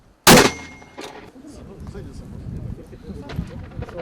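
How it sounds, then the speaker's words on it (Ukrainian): A single sharp, loud blast at the start, followed by a decaying rumble and faint background voices and movement. "Постріл!"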